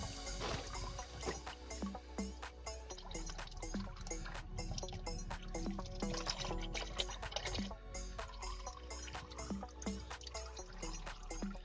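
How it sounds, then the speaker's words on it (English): Oil draining out of the filter housing on a Toyota RAV4 during an oil change, heard as a continuous, close trickle with scattered drips throughout. "Drain the oil from the filter."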